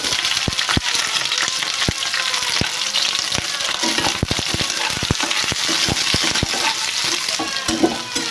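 Capsicum and onion sizzle and crackle in a hot pan for paneer curry, a dense steady frying hiss punctuated by frequent sharp pops and spatters, close and fairly loud throughout with no talking.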